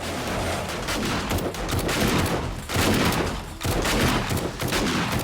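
Automated turrets firing in the video game 7 Days to Die, a dense, loud, continuous stream of rapid gunshots with brief dips, with no talk.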